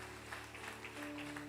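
Church congregation applauding in worship, a faint, distant patter of clapping over a steady low hum, with no voices standing out.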